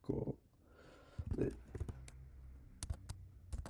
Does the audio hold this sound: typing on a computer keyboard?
yes